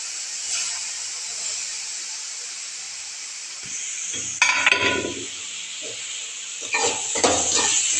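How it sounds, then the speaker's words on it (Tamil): Tomatoes go into a pan of sautéing wheat rava upma: a steady background hiss swells into louder sizzling bursts, mixed with clinks and scrapes of a utensil against the pan. "இப்போ அது நல்லா வதக்கி வச்சு இப்போ தக்காளி பழம் போடுறேன்"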